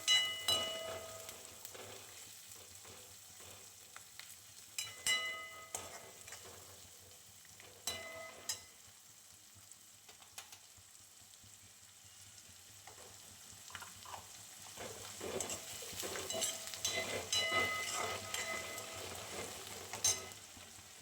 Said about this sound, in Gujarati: 1 મિનિટ તળવા દેવાનું।